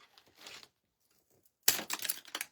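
Wooden skewers from Dollar Tree being cut by hand: a couple of brief, crisp, close snaps separated by quiet.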